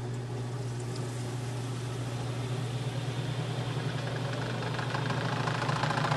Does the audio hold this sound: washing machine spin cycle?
yes